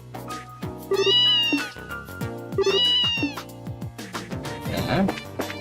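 Cat in the Trails in the Sky video game meowing in several clear, close, drawn-out calls with short gaps between them, loud against a quiet musical background.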